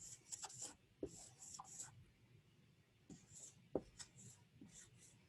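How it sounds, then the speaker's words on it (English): Marker writing on a small board during a phonics lesson, faint scratchy strokes and squeaks in short irregular bursts, quiet and close. "Write this one on your board."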